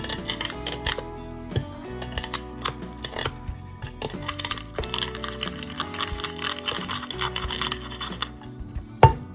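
Black peppercorns are crushed under a heavy, clean pan: a series of close, sharp little pops and crackles, irregular and clicky, with gritty scraping in between.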